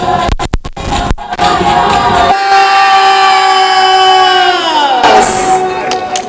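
A loud crowd cheers and shouts together at a Christmas song performance attended by the First Lady, sustained voices rising into a long collective whoop that sweeps downward, with sharp bangs at the start.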